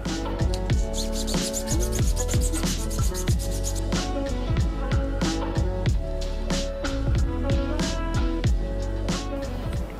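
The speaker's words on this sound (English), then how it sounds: "We'll sand off any detail that might be left on there" A silver dollar coin is sanded with garnet sand to remove remaining detail while shaping a pendant, giving a busy, steady scraping and rubbing texture with rapid repeated strokes, close and fairly loud throughout with no talk.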